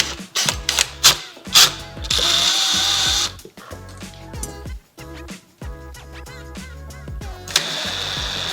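Screws backed out of a metal floating shelf bracket mounted on a wall, with several short bursts of a cordless drill or driver whirring near and loud, separated by brief pauses and clicks.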